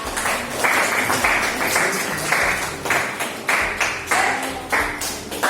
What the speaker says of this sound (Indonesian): beri tepuk tangan dulu buat kelompoknya Amanda dan Nana